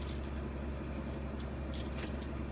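A bunch of keys for a Sprinter camper van jangles in several bright, metallic bursts over a constant low engine rumble.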